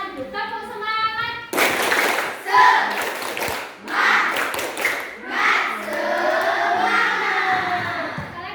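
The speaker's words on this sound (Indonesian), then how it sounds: "Tepuk semangat." A class of schoolchildren performs a rhythmic cheer clap together in an afternoon school session, the bursts of clapping loud and close and mixed with shouting voices, after a brief sustained tone.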